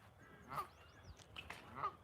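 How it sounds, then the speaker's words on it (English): A goose at a lake gives two quiet, distant honks about a second apart, faint against soft outdoor ambience. "He's honking a little bit."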